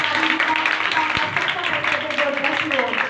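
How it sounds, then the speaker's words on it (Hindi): Applause from a church congregation at a Pakistani Christian ministry gathering, dense and steady throughout, with a voice speaking over the clapping. "जोरदार तालियां"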